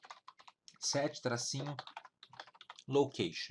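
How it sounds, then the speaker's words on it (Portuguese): Keys on a computer keyboard clatter in quick light bursts, typing out a command in a Windows PowerShell session, while someone speaks close by over and between the keystrokes. "Então eu vou digitar esse cara aqui."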